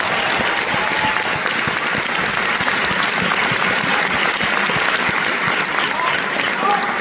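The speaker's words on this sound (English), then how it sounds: "let's give a round of applause for Georgia and Sarah" A crowd claps steadily in a sustained round of applause, dense and even from start to finish.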